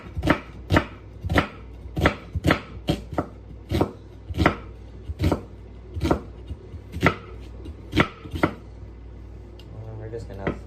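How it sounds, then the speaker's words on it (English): A knife slices an onion into thin slices on a cutting board, a steady series of about a dozen sharp, close chops at an even rhythm. "I simply just like thin slices"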